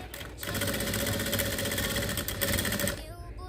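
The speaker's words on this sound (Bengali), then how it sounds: "এখন উপরে চাপ সেলাইটা দিয়ে দিচ্ছি" A sewing machine runs steadily, top stitching a new design of scarf with a rubber band sewn inside, its motor whirring loud and continuous for about three seconds before slowing at the end.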